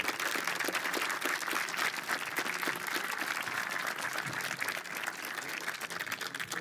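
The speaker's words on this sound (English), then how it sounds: "one last round of applause for the new owners of the Edmonton Elks, Larry Thompson, Deb, and their entire famil" A room full of people applauds at a press conference for the new owners of the Edmonton Elks, a continuous even wash of clapping, fairly distant and soft.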